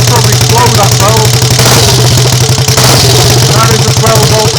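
A Triumph Tiger Cub motorcycle's small engine, with mechanical advance-retard and no electronic ignition, runs loud and close with a rapid, chugging pulse, rising slightly in pitch as it is revved, with talking over it.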